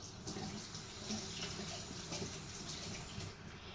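Freshly harvested pechay is washed under a running tap, a steady soft gush of water with faint splashing, fairly quiet and continuous throughout.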